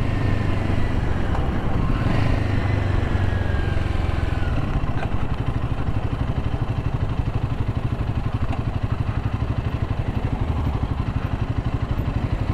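A Royal Enfield Himalayan 450 single-cylinder motorcycle engine runs close by with a steady, even low thump throughout, with no pause or change in pace.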